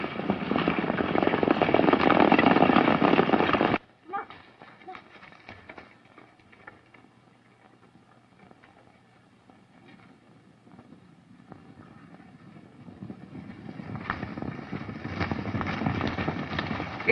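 Horses ridden at a steady pace in a 1936 Western produce a hoof clip-clop, with quiet scattered hoofbeats that build back into a rushing, dense ride, bracketed by loud broadband stretches at the start and end.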